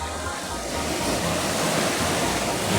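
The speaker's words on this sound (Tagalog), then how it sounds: "Pagtama ng tubig sa mga bato." Waves breaking against rocks along a shoreline make a steady, loud rushing wash of water with surging swells and no pauses, heard alone without voices.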